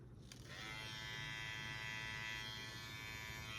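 A COCCO hair clipper trimmer with a T-outliner style blade switches on and runs with a steady, quiet electric buzz, heard close up and alone.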